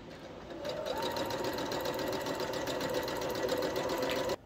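A sewing machine runs steadily for about four seconds, stitching the side seams of a 1950s-style skirt with a narrow stitch. The rapid mechanical whir is close and clear, then stops abruptly.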